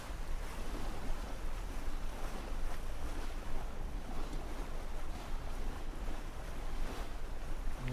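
Steady, close wash of waves crunching and hissing against a sailboat's hull in the sailing simulator Sailaway, with wind noise running continuously underneath.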